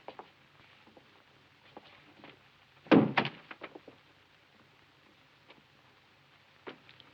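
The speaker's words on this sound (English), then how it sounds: "Shut the door." A door thumps shut once in a quiet room, a single solid knock roughly midway through, followed by faint small rustles and ticks in the background.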